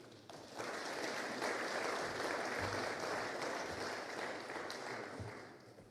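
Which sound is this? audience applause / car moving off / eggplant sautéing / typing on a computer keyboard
audience applause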